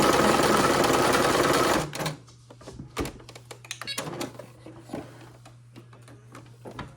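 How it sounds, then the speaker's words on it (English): Sewing machine stitching quilt fabric for a pinwheel quilt, a loud steady continuous whir for nearly two seconds that then stops, followed by quieter scattered taps and handling of fabric. "And I take the sewing machine, I put this right under there where I pinched it at."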